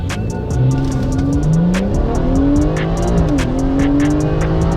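A stock BMW 340 launches hard on a 0-100 km/h run, its engine revving up through rising gear pulls with brief dips at each shift, loud and close throughout.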